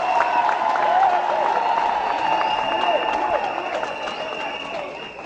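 Applause from the assembly at the inauguration of a Kimbanguist temple in Bukama, a steady crowd clatter with a voice carrying over it, fading slightly toward the end.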